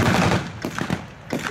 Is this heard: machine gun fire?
yes